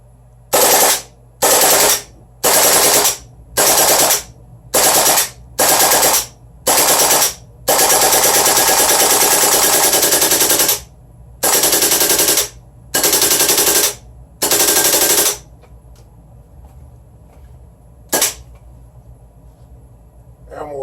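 Matrix gas blowback M4 airsoft rifle emptying a full magazine: a series of rapid full-auto bursts, several short ones, then a long sustained string and a few more bursts, close and loud, ending with quiet clicks and a single late shot.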